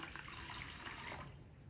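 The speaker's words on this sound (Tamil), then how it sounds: "இதெல்லாம் கழுவிட்டோம், தண்ணி ஊற்றி ஊற வச்சிடலாம்." Water poured over washed ragi grains set to soak overnight for a health drink, a steady close splashing pour running continuously and softening slightly at the end, with no talk over it.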